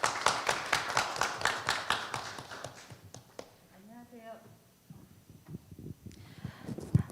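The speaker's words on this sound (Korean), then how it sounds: "뜨거운 박수 부탁드립니다." A small audience at a community results-sharing event claps for the next speaker, distinct rhythmic hand claps for a few seconds that stop, followed by a person talking.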